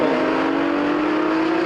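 Race cars, including a 1979 Porsche 935, accelerate hard at a vintage racing reunion, a loud, close engine roar with rising pitch that drones on without a break and has no voices over it.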